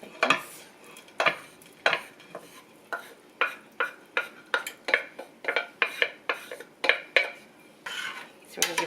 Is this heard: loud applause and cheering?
no